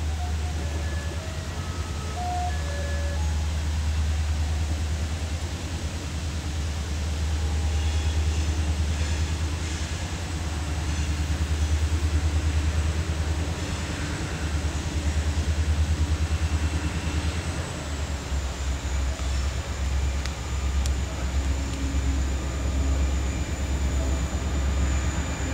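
An IHB southbound freight train rumbles past Cal Tower in East Chicago, Indiana, a steady low engine drone and rolling rail noise throughout, with faint squeals and a distant horn-like tone late on.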